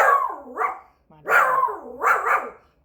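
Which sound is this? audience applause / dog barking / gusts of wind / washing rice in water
dog barking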